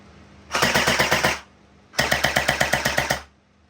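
A converted water gel airsoft Scar L rips off two full-auto bursts, each a loud, rapid mechanical rattle about a second long, separated by a brief pause, with no voices.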